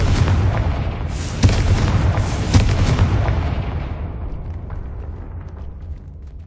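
Confringo blasting spell erupting in Hogwarts Legacy, a loud burst of booming blasts with a couple of sharp thuds, then a deep rumbling roar that gradually dies away.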